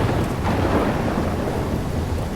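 A steady thunderstorm in Life is Strange Remastered: continuous rolling thunder with a dense wash of rain, heard alone without voices.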